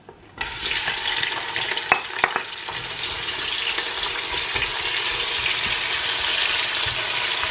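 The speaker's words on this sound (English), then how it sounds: "So now I'm gonna add my onions here." Chopped onions hit hot oil in a pot for chicken stew and break into a sudden loud sizzle that then holds steady and close, with a couple of utensil clinks early on.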